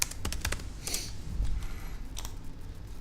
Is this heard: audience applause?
no